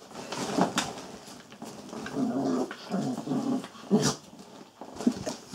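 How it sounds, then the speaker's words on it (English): A young Xoloitzcuintli puppy growls in a series of low, rumbling bursts with brief whimpery edges, close by and rising and falling over several seconds. "It's Iris on the growl"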